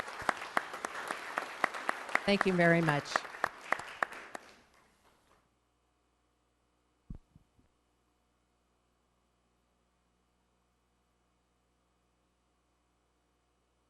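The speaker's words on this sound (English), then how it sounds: "I'd like to also have one final round of applause for all the winners" Applause for award winners at a city council meeting, a few seconds of steady clapping that tapers off, with someone briefly speaking over it, then a quiet room with a couple of faint taps.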